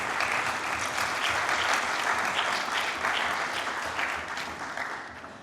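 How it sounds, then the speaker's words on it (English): A seated audience at a squash talk session gives sustained, full applause for champion Amr Shabana, a dense wash of clapping that holds steady and fades slightly at the end. "you should all just give him a big round of applause"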